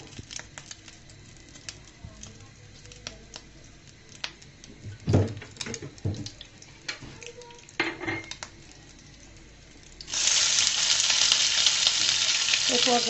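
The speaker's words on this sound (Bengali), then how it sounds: "টমেটোগুলো আমি ছেড়ে দিলাম টমেটোগুলোকে আমি ভেজে নিচ্ছি" Tomatoes fry in oil for a tomato egg stir-fry, starting with scattered utensil taps and clanks over a soft sizzle before a loud, steady hiss of frying suddenly swells up near the end, close and continuous.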